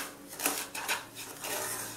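Semolina being stirred and roasted golden in a pan over low-medium flame, with soft repeated scraping and clinking of a utensil against the pan, fairly quiet and close.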